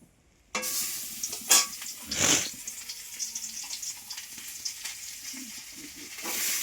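Bhola fish coated in salt and turmeric frying in hot oil, a steady bright sizzle that flares up loudly in bursts, with occasional clinks of a utensil against the pan.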